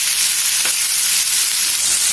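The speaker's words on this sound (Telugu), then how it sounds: "హైలో పెట్టి కొంచెం అటు ఇటు తిప్పుకుంటూ ఫ్రై చేసుకోవాలి" Potato and onion pieces fry hard on high heat in a pan, giving a loud, steady, dense sizzle throughout, with a faint scrape of stirring partway in.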